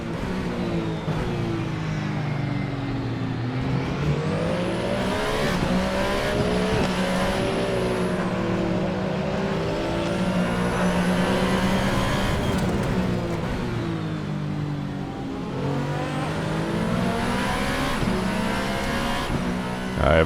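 Alpine A424 race car engine in Assetto Corsa, a continuous loud engine note climbing and falling through gear changes and revs, steady and close for the full stretch without any talk.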